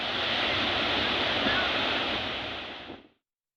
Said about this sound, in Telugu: కాలువ కట్ట తెగి పొలాల్లోకి వరద నీరు చేరుతోంది